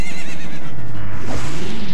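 Phantom Ganon's spectral horse in The Legend of Zelda: Ocarina of Time gives a loud, close whinny with a wavering, falling pitch, heard alone over a dense game-music background.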